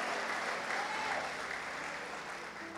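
A church congregation claps in sustained, dense applause filling the room, steady and then slowly easing off, with no speech over it.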